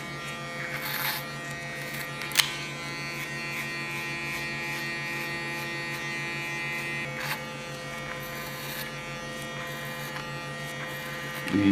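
An electric hair clipper cuts hair with a steady, close buzzing drone that holds for the full stretch, broken by a few brief clicks and snips.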